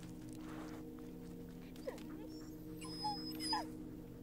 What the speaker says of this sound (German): Also manchmal versteht den Hund nicht, ne, was der für Geräusche macht.